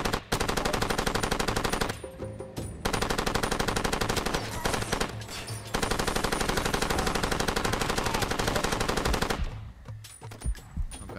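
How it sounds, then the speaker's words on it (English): Enemy gunfire in the Far Cry 2 video game: sustained loud automatic bursts rattle almost continuously, with brief pauses near two, five and nine and a half seconds, dense and close. "they already shooting at me"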